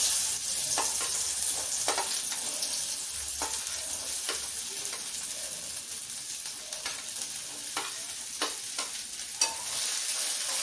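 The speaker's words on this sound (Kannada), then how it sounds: "ಇವಾಗ ಬೆಂಡೆಕಾಯಿನ ಚೆನ್ನಾಗಿ ಹುರ್ಕೋಬೇಕು" Cut okra fries in hot oil with a soft, continuous sizzle, punctuated by occasional sharp spatula scrapes and clicks as the pieces are stirred in the pan.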